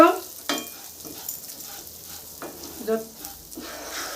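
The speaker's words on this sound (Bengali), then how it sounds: "হলুদ, কাঁচা লঙ্কা, আদা সব বেটে রেখেছিলাম, ওইটা দিয়ে দিব। এটাও 2 মিনিট ভেজে নিব।" A ground paste of turmeric, green chili and ginger fries in a pan, giving a brief moderate sizzle with a few sharp stirring scrapes.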